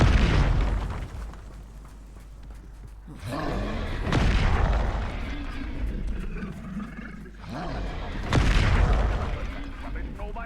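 Bombarda spell explosions go off in the Hogwarts Legacy video game, two or three deep roaring booms that swell and fade, with people talking between them.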